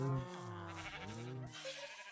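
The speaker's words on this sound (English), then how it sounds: "There's our sheep." A Minecraft sheep bleats once in a clear, drawn-out, wavering cry, fairly close and alone.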